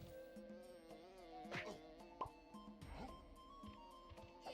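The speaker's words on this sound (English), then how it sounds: "Got punished by the bee for looking." A bee in the Donkey Kong 64 video game buzzes in repeated whining swoops over the game's tonal background music, close and fairly prominent.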